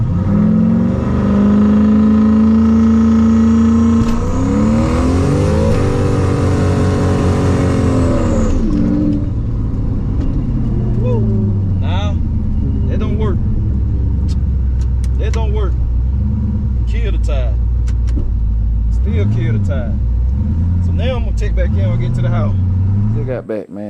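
Turbocharged Chevrolet Camaro revs loudly up close, then launches with a rising surge of acceleration and a falling whine as it settles, followed by rough idling and blips, with someone talking throughout.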